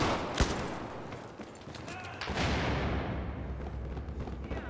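Gunfire in the shooter game Battlefield 4 during a Conquest match: one sharp, loud shot early on, then a dense, rumbling wash of distant battle noise and scattered reports.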